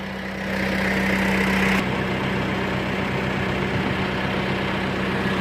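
A tractor engine runs steadily at close range, powering a hose reel as the line winds in during crop spraying, with a constant hum and a brief louder surge near the start.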